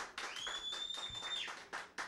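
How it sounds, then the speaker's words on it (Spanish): Audience clapping to welcome a guest to an interview in New York: faint, scattered claps arriving in bursts, with a thin steady whistle-like tone running underneath for part of the time. "Con el aplauso de ustedes, Henry Nelson aquí."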